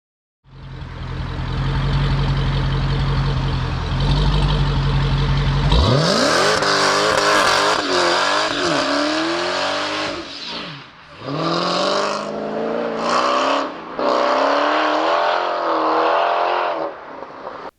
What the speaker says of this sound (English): with a new valve-controlled AEC performance exhaust system